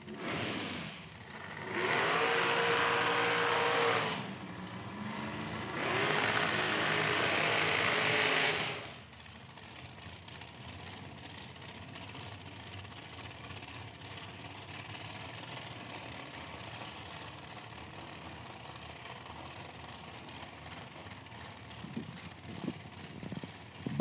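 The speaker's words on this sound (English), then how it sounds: "Burnouts are complete now." Nitro dragster burnouts at an IHRA Outlaw Nitro drag race in Hebron, Ohio: two loud, sustained roaring bursts, then a lower, quieter engine rumble continuing in the background.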